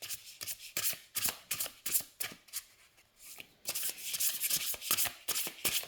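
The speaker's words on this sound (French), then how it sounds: "Bon, les cartes se mélangent" A deck of oracle cards is shuffled by hand up close, giving rapid papery riffling and rubbing strokes in quick rhythmic bursts with a brief pause midway, with no talking.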